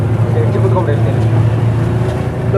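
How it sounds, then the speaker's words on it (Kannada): A petrol-engine speedboat runs on the water in Kodagu district, giving a steady, loud low rumble of motor and water throughout, with voices mixed in. "ಸ್ಪೀಡ್ ಬೋಟಲ್ಲಿ ಕೂತಿದ್ದೀವಿ ನೋಡಿ ಇದೇ ಸ್ಪೀಡ್ ಬೋರ್ಡ್ ಅಲ್ಲಿ ವರ್ಕ್ ಆಗುತ್ತೆ ಫುಲ್ ಪೆಟ್ರೋಲ್ ಪೆಟ್ರೋಲ್ ಮೋಟರ್"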